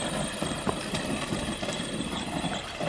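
Arrma Granite Mega RC monster truck with a brushless electric motor climbing a dirt hill, giving a steady, busy whirring drone with rough bumps and rattles throughout; no one talks.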